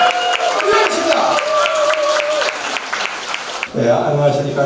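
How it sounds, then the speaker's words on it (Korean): Audience applause at a Korean lawmaker's 2024 legislative activity report event, a dense wash of clapping from a crowd with a voice over it near the end. "여러분 박수 부탁드리겠습니다"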